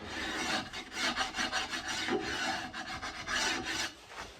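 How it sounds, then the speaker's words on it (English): Scraping tool rasping along a wooden guitar neck during carving, a close, steady series of rapid rough strokes repeated in a quick rhythm. "So we just kind of scrape that and smoothen it."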